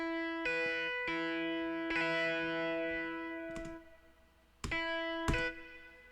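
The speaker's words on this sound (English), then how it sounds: "I'll slowly bring up the reverb." Electric guitar chords ring out one after another, each swelling into a wash of reverb that lingers and trails off between strums.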